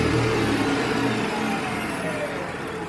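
Replacement electric motor on a metal lathe running flat out at high speed, a loud steady whine with layered tonal hum that holds level and eases very slightly toward the end, with no voices.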